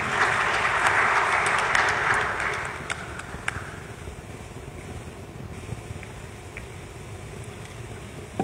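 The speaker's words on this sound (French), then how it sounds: "Sous vos applaudissements, mesdames et messieurs." An audience at a conference panel session on future single windows breaks into steady applause that rings for a few seconds, then fades away, leaving a quiet room with faint background noise.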